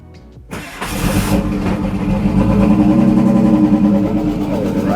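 A Nissan R32 Skyline engine cranks and fires after a short quiet moment, then settles into a loud, rough, steady idle close to the microphone.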